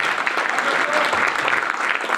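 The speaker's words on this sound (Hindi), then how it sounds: "पूरा जोरदार ताली।" A large audience gives loud, sustained applause at a business seminar, a dense wash of clapping that holds steady for the whole stretch with no pauses.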